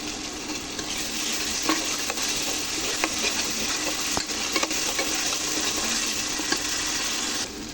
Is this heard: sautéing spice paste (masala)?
yes